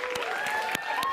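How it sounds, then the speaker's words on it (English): A live audience at a talk-show style event applauds in a short burst of continuous clapping, with a faint tonal whine running underneath. "Round of applause."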